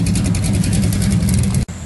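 A Plymouth Road Runner's engine runs loudly and close at a car show, a steady throaty rumble that cuts off abruptly near the end.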